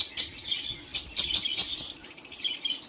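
Birds chirping close by in hot weather, a lively series of bright, rapid tweets in quick bursts, fairly loud and with no voices.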